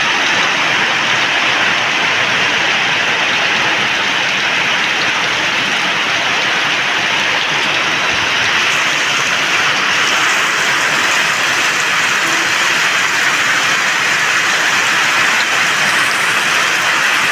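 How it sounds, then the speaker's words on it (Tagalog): Heavy rain pours steadily and loudly, a dense, unbroken hiss of falling water on surfaces that runs the whole time with no voices. "Ilang araw na pong naulan dito."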